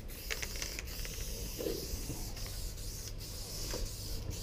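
A graffiti spray paint can hisses in short bursts over a constant background rush, with brief bright spurts of spray coming and going.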